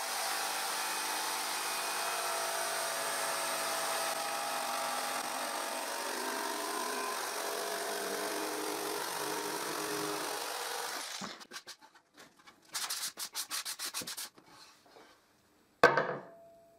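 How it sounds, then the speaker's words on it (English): A jigsaw cuts through a piece of plywood with a steady, buzzing rasp for about ten seconds. It then stutters through a few short bursts and stops, ending with a sharp knock. "with the jigsaw I cut the piece of plywood I will use to make the drill press table"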